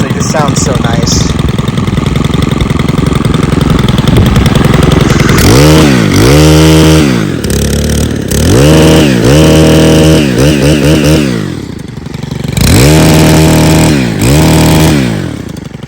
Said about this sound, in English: I absolutely love these engines, they just sound so nice.